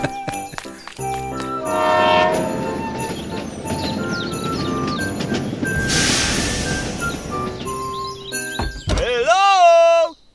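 A Christmas Gift Express train loaded with neatly stacked gift boxes sounds a horn and rumbles along amid bright tonal music-like sounds and chirps, with voices speaking over it and a rising whistle-like sweep near the end.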